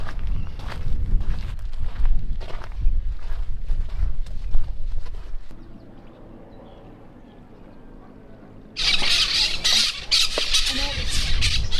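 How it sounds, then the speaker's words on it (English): Loud, harsh squawks of parrots or parakeets burst out in a noisy chorus near the end, after footsteps and quieter rustling outdoors on a small desert island. "all the parrots or parakeets are going wild"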